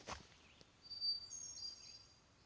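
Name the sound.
birds calling in the forest on the Appalachian Trail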